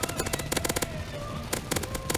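Rapid automatic gunfire in a CS:GO zombie escape match on ze_uyuni, crisp close bursts of repeated shots separated by a brief lull.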